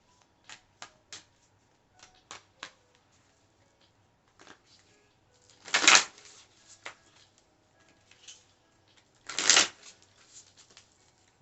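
Oracle cards shuffled by hand close to the microphone, a series of quiet crisp flicks and taps with two longer riffling bursts, fairly faint overall.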